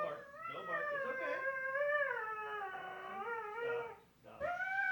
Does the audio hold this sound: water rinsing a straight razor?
no